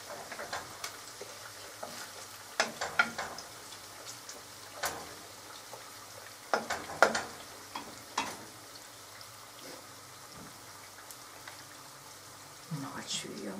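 Potato pieces fry in a pan, giving a soft continuous sizzle with scattered crackles and pops, faint and close, with occasional utensil clicks.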